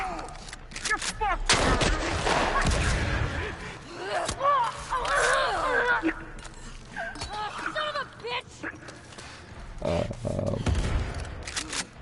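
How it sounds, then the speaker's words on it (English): Gunfire in The Last of Us Part II Remastered, No Return mode, sharp repeated shots in bursts mixed with grunts and game effects, with a voice talking over parts of it. "I'm shooting, thank you."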